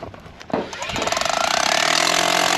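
A DeWalt DCH614 hammer drill starts with a few knocks, then settles into a loud, steady, fast pulsing hammer action that builds and holds close by.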